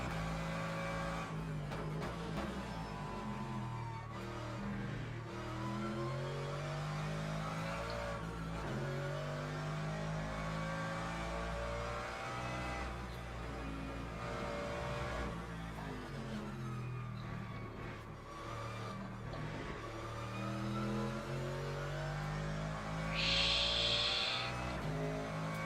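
Mercedes-AMG race car engine in the Le Mans Ultimate racing game, revving hard and shifting through gears with steady, loud engine drone throughout, rising and falling pitch, and a brief high squeal near the end.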